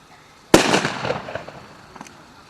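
A single sharp, loud rifle shot cracks out during a World War I battle reenactment, then echoes and fades over about two seconds, with faint outdoor noise afterward.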